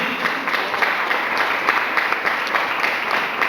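Church congregation applauding during a Spanish-language sermon, a lively sustained round of clapping from a gathered crowd, even and continuous with distinct claps peppered through.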